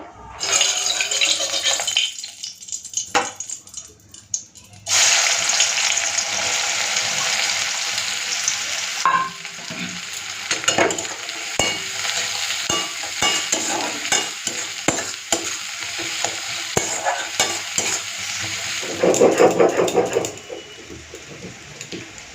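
Onions frying in hot mustard oil with a pinch of sugar, the base for a potato and cauliflower curry: a steady close sizzle that turns loud and dense after a quieter start, broken by stirring scrapes, with no talk.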